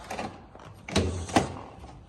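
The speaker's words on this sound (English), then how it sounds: "So let's just open the door." The door of a BMW E30 car is opened, giving a soft latch click and a dull thunk followed by a second quieter knock, close by and alone.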